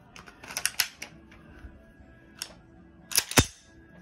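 Walther pistol being handled with a dummy round loaded into its magazine: scattered close metallic clicks and clacks, a cluster near the start and a sharper double snap near the end, with quiet pauses between.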